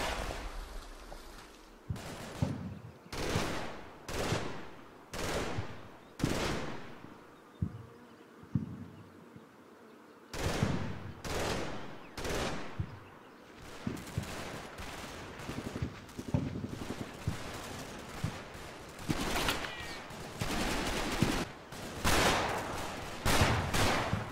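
Bursts of gunfire from a war video game, sharp cracks and rattling volleys repeating in clusters across the whole stretch, loud and close with brief pauses between groups of shots.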